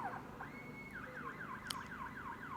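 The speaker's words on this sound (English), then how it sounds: "there's an alarm that's just gone off" A faint electronic alarm warbles in a repeating rising and falling pattern, heard from a distance over low background noise with no one speaking.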